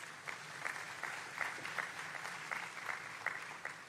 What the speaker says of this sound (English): So thank you for joining me in applauding their service to our city.